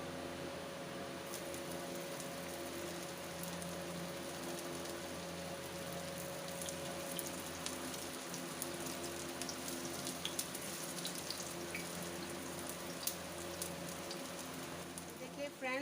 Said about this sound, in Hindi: अपने सारे कबाबों को फ्राई कर लेंगे।